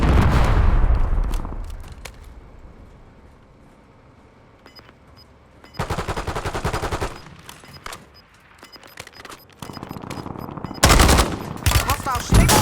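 Bursts of automatic gunfire come from the video game Call of Duty: Warzone on Rebirth Island. Short, loud volleys stand out against quieter stretches, with game voice lines heard in between.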